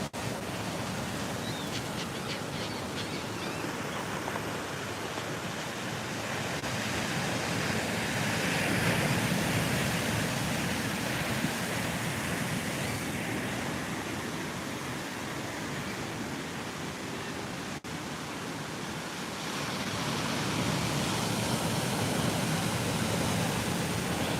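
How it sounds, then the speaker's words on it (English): Steady ocean surf washes continuously, swelling and easing in broad rolling surges with a hiss of wind, no voices present. "I love coming out here and listening to the ocean as well"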